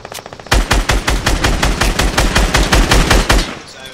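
Rapid automatic gunfire from the Fortnite video game, a loud, fast burst of evenly spaced shots that runs for about three seconds before cutting off.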